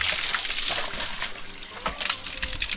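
Mountain stream water rushing and splashing while a vessel is filled, a steady broadband gush with bursts of louder splashing, close by and without talk.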